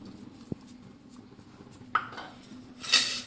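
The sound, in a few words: mixing banana chips with sprinkled spice masala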